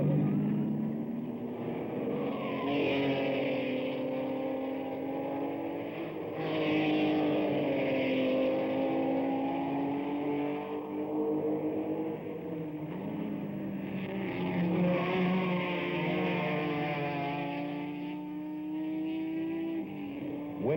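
Datsun race cars and other 1971 Can-Am racers battling for third place on a road course, engines roaring continuously with rising and falling revs through gear changes, loud and close throughout.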